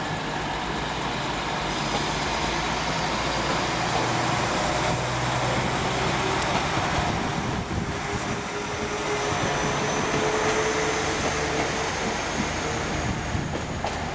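Passenger train 195002 heading towards Nottingham rumbles steadily through a station at Leeds, a sustained moderate roar with a steady hum and no talk.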